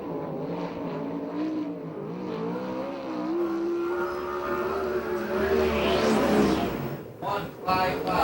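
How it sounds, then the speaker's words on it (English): USAC/CRA sprint cars race on an oval track at Perris, California, engines droning and rising in pitch as they pass, with a whooshing fly-by near the end, while an announcer talks over the noise. "77 car on the racetrack now"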